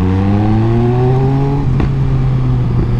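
A 1000cc Triumph Speed Triple motorcycle accelerating hard, its engine note climbing steadily in pitch, loud and close, then levelling into a sustained high-revving drone.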